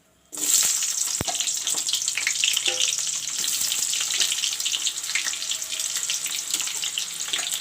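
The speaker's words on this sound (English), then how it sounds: "The oil is turned hot. I will put in the onions." Onions are dropped into hot oil in an Indian kitchen. After a brief quiet moment, a sudden loud sizzle bursts up and stays steady and close, with light clinks and stirring scrapes.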